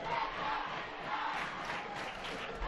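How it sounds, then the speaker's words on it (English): A high school football crowd at a Blytheville prep game against Osceola roars and yells from a distance, a sustained rowdy din of many voices. "the Chickasaw crowd getting into it now"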